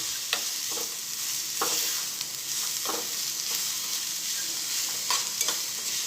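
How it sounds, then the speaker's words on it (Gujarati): Bitter gourd peel chutney with jaggery fries in a pan: steady sizzle with repeated scraping strokes of a spoon stirring, close and continuous, no talking. "આપણે અડધી મિનિટ ચલાવીને સાતરી લઈશું"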